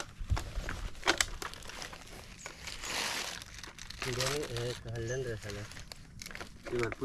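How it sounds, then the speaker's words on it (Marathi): Plastic bag crinkles and rustles as fishing gear is pulled out of it beside the Savitri river, quiet irregular crackling close by, with a person talking over part of it. "बघूया आता पण गल काढतोय पिशवीतून"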